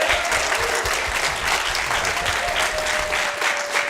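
An audience applauds the 2021 Lancer Tank pitch competition winners at a pitch fest, with steady, dense clapping filling the full four seconds at a loud, even level and a faint tone running beneath it.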